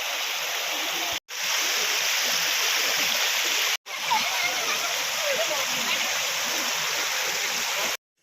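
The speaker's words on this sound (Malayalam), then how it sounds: "പിന്നെ സൗണ്ട് നന്നായി കേൾക്കുന്നുണ്ട് കേട്ടോ. പക്ഷേ വെള്ളത്തിൻ്റെ ഒഴുക്ക് നന്നായി കുറഞ്ഞു." Stream water with a reduced flow runs over rocks where people are fishing, a loud, steady, close rush and splash that cuts out briefly twice.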